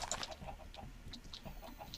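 A regular female chicken in the Minecraft mod TerraFirmaCraft clucks in a few short, moderately close bursts over soft game ambience, with no talking.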